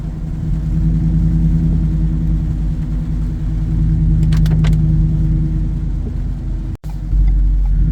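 A truck engine rumbles steadily and loudly close by while revving, with low throaty surges, a few brief clicks, and a sudden cut before the rumble resumes, on a rainy road.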